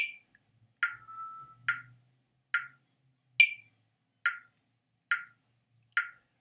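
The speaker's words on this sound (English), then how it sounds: "You can look for a metronome and practice with a metronome." A metronome ticks at a steady 70 beats per minute: eight crisp, evenly spaced clicks, clear and isolated against silence.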